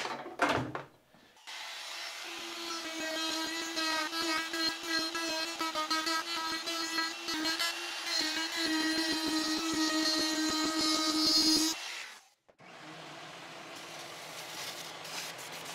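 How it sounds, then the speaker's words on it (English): A handheld wood router cuts freehand, nibbling a USB recess into a wooden monitor stand. A brief knock comes first, then a loud, steady high-pitched whine with cutting roughness runs for about ten seconds before spinning down. "I'm just going to freehand it with the router, nibble it all out"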